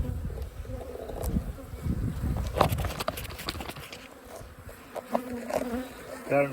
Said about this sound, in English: Hatching bees.